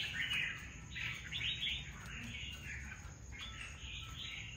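Red-whiskered bulbuls, caged trapping birds, chirping: several bright warbling and chirping phrases, fairly faint, over a low steady background hum and hiss.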